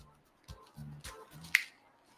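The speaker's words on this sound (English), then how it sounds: "So when I snap my fingers through the magic of editing," One sharp finger snap cracks out near the end, close and fairly quiet. Faint low knocks and rustles come before it in a quiet workshop room with a CNC machine.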